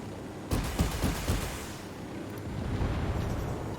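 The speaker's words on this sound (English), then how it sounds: "explosion. We'll go." A loud explosion bursts in the Ghost Recon Wildlands video game, a boom followed by crackling debris and a lingering rumble that fades into a low roar.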